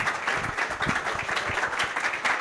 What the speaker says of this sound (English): Give him a standing ovation for that. Keep clapping.